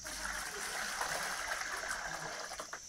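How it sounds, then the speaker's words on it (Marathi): Cold water pours steadily into a container for a salt-water treatment of rice seed, a soft continuous splashing and trickling at low level with no speech. "सगळ्यात पहिले आपल्याला पाणी टाकून घ्यायचं आहे."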